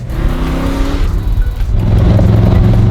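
A 2008 AC Cobra replica sports car engine runs loud and close, a deep rumbling note that rises and swells as it revs, with no talk over it.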